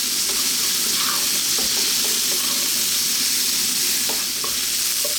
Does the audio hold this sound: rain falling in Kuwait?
no